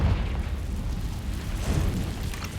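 A Confringo blast spell exploding in the game Hogwarts Legacy, a loud, dense, rumbling burst that fills the whole short moment without pause or talk.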